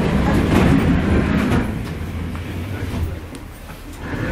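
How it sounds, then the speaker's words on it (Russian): A tram rumbles along its rails, loud and close from inside the car, with a heavy low roar and clattering that eases slightly after the first second and a half. "Как я давно не ездил на трамвай."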